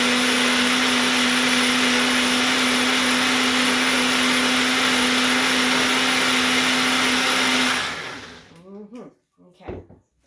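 Chickpeas for a tuna-style salad whirring in a blender, a loud steady drone for about eight seconds, then cutting off to a few clattering knocks as the jar is handled.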